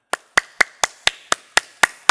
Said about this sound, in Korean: 하나님께 감사와 영광의 박수를 드리고 시작하고 싶습니다